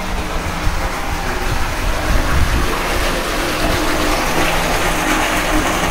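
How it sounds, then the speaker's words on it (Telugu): A water tanker pumps water into an apartment building's tank in Bengaluru, a loud, steady rushing gush with a low pump drone that carries on without a break. "మా అపార్ట్మెంట్లో వాటర్ లేక ఇట్లాగా వాటర్ ట్యాంక్ తెప్పించుకొని పోపించుకుంటున్నాం"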